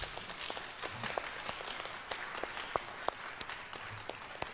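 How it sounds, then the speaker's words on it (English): Audience applause closing a college mayoral candidates' forum, a steady wash of clapping from a moderate-sized crowd with a few sharper individual claps standing out. "Please, let's give the candidates a big round of applause."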